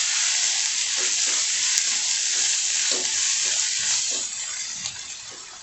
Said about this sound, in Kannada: ಇದನ್ನ ಹಾಕಿ ಚೆನ್ನಾಗಿ ಮಿಕ್ಸ್ ಮಾಡ್ಕೊಬೇಕು